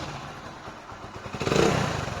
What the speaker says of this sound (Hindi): इसका इंजन का आवाज़ एकदम सही है